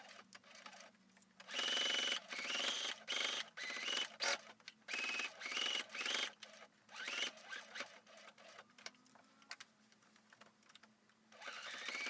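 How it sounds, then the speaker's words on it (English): Sewing machine stitching close to the edge to attach a pocket onto a yellow wool coat, running in repeated short whirring bursts with brief pauses between, fairly quiet. "now we're going to stitch close to the edge to attach our pocket in place"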